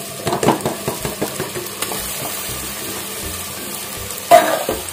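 Marinated chicken fries in a pan for donne biryani while a spoon stirs it, making rhythmic scraping strokes over a soft sizzle, with a louder clatter near the end.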